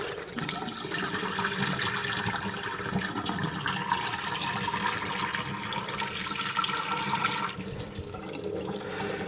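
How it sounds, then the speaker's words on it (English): Water drains steadily from a whisky barrel through an open spigot, a continuous close rushing splash that holds even for most of the clip before easing slightly near the end. "I'm going to open the spigot and let some water drain out."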